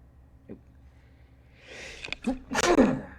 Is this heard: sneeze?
yes